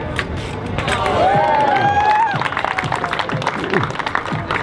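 A festival crowd watching a stunt show claps in a loose rhythmic pulse, mixed with a high squealing sweep and a voice talking over the top.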